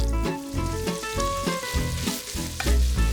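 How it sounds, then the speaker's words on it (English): Andouille sausage and tasso browning in oil in a pot give off a loud, continuous crackling sizzle with bursts of popping and occasional stirring scrapes, close up and steady throughout. "We're gonna brown those and render out the fat."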